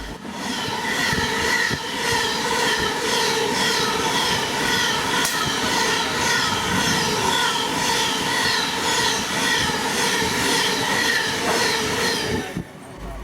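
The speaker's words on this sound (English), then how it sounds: "An empty Queensland Railway coal train is seen coming past us." An empty Queensland Railway coal train of hopper wagons rolls past close by in the Hunter Valley, with a loud continuous rumble, rhythmic wheel clatter over rail joints and a faint squeal before it cuts off abruptly.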